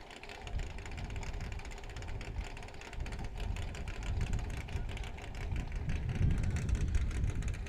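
A 1965 Chevy Corvette race car at the Sandhills Open Road Challenge idles with a low, steady rumble and slight mechanical rattle, the engine note rising a little toward the end, fairly quiet and without talk.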